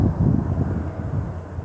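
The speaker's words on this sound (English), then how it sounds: "Maybe I gotta talk a little louder because it's so windy." Strong gusty wind blows outdoors through a garden in Florida, a loud low rumble buffeting the microphone in uneven surges with no voice.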